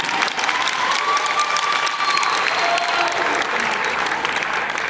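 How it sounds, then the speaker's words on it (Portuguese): A crowd at a mock jury trial applauds warmly, steady dense clapping sustained for several seconds with no voices over it. "Uma salva de palmas para eles"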